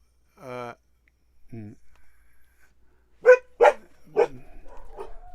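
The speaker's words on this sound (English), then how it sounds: "the dogs are barking and we're rolling" Dogs barking indoors near a studio, a few sharp barks early then a rapid cluster of loud barks later, with soft voices and background sounds in between.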